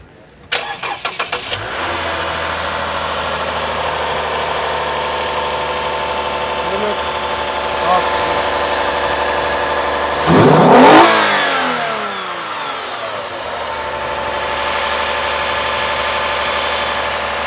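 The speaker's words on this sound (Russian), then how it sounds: "сейчас заведем двигатель, послушаем его работу" A car engine in Armenia cranks with a few quick bursts, catches, and settles into a steady running hum, with a brief louder rev partway through.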